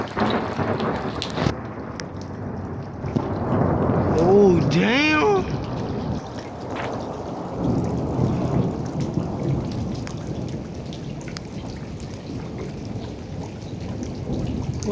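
Loud thunder rolls through a rainstorm, a heavy rumble building over steady rain on surfaces, with a person exclaiming nearby and a brief tonal sweep mid-clip.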